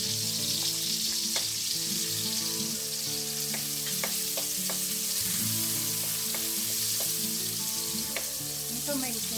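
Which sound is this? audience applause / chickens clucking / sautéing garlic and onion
sautéing garlic and onion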